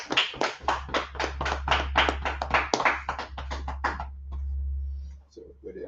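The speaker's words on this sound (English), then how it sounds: "All right, clap it up." An audience clapping, a brisk burst of many hands applauding for a few seconds before fading out, over a low steady hum; a voice speaks briefly afterward.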